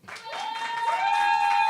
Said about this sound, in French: Applaudissez pour lui, s'il vous plaît.